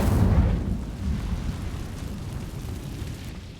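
An Incendio fire spell cast in the Hogwarts Legacy video game bursts with a loud, low whooshing roar that swells at once, then fades slowly into a rumbling crackle.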